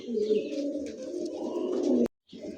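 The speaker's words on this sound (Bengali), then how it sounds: "এই মুহূর্তে স্ক্রিনে দেখতে পাচ্ছেন দুইটা কবুতর" Pigeons, including high-flyer and Kalshi-throated breeds, cooing close by in a low, rolling, throaty purr that runs for about two seconds, breaks off briefly, then resumes.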